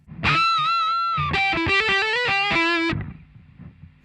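A short distorted electric guitar lead line from a song, played before the bridge: sustained notes, then a quick run of stepped notes with string bends, ringing out loud and alone before fading.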